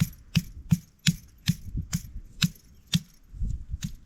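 Roasted cashew nuts cracked open with a small stone, about a dozen sharp knocks in a steady rhythm, close and crisp, with no talk.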